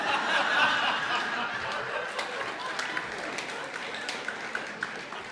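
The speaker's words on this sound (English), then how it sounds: "they really clapped at that one" Church congregation clapping in a worship hall, a burst of applause mixed with laughter and chatter that gradually thins to scattered claps.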